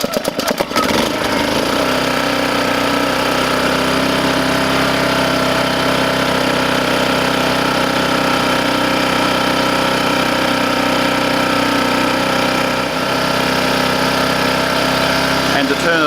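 GenTrax 1.2 kVA inverter generator running at full power, its small engine droning loud and steady at close range with a constant hum and a brief dip near the end.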